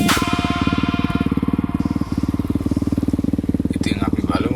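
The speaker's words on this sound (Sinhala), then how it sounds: "ඊට පස්සේ මම එයාගේ බයික් එකත් පොඩ්ඩක් පැදලා බැලුවා" A Honda Hornet motorcycle runs with a loud, close, steady engine thrum, its rapid even pulses holding a constant pitch as it is ridden, with faint voices in the background.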